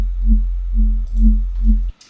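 Serum synth sine wave oscillator with its level pulsed by an LFO, a loud low bass tone swelling in four rhythmic throbs before cutting off abruptly at the end.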